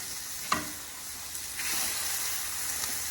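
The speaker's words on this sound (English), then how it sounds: "And on one side, I'm gonna put our steak. I'm actually gonna put the fat cap side down." A steak, fat cap side down, sizzles on a griddle in avocado oil with a steady close-up crackling hiss. A sharp tap of the meat landing comes early, then the frying swells slightly.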